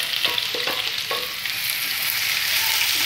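Onions fry in hot melted caramelized sugar for chicken kosha, a steady dense sizzle running throughout with a few brief scraping stirs near the start.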